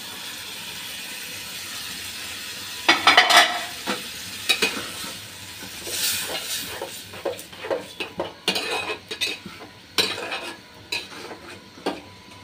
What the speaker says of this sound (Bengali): এই যে এবার দিয়ে দেবো মাছের ডিমগুলো আর ফতনাগুলো, একটু ছোট ছোট করে কেটে নিয়েছি আমি